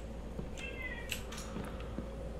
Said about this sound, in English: There's my cat again.